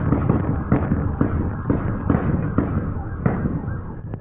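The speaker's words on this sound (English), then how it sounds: "What sounds like fireworks is a firefight." Gunfire from a police firefight with an SUV, a rapid series of sharp popping shots like fireworks, repeated bursts at a distance over a steady background.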